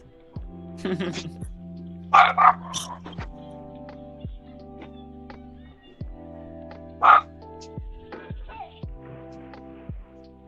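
A dog barks in sharp bursts indoors: two quick barks close together, then a single bark several seconds later, moderately loud over a steady electrical hum.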